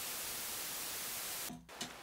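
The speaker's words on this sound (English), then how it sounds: "So we start with the analog white noise." Analog white noise from a SetonixSynth noise module hisses steadily and evenly for most of the moment, then cuts out abruptly with a brief gap and a couple of small clicks before resuming more quietly.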